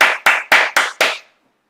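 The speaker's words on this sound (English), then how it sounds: "Everybody, let's give a round of applause." Five sharp, evenly spaced claps ring out close and loud, a short burst of hand clapping that stops abruptly and leaves silence.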